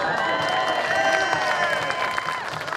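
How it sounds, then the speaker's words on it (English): Crowd at a Renaissance faire birds-of-prey show applauding and cheering outdoors, a steady wash of clapping with whistles and shouts layered over it, fairly loud and continuous throughout. "Give her a giant round of applause."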